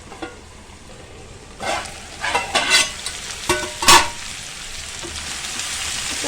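Masala potato curry fries in a pan with a low background sizzle, broken by several louder bursts of stirring and scraping between about 2 and 4 seconds, no speech.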